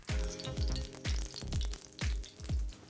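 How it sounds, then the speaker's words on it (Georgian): Vegetarian cutlets frying in oil on a hot grill, a steady crackling sizzle punctuated by rhythmic thumping pats roughly every half second, close and fairly loud. "გრილზე ვწვავთ. გახურებული მაქვს გრილი. დავასხათ ზეთი."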